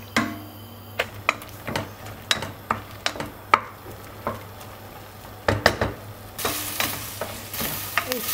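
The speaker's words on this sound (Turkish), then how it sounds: "Eti şöyle yüksek ayarda güzelce kavuruyorum." Meat browns on high heat in a pot, with a continuous sizzle and repeated sharp spoon knocks and scrapes against the metal as it is stirred, and the frying hiss grows louder near the end.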